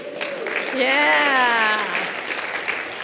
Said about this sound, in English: Where my nerds at? Clap it up.